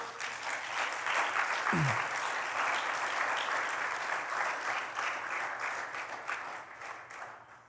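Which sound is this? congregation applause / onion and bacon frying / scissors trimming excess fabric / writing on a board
congregation applause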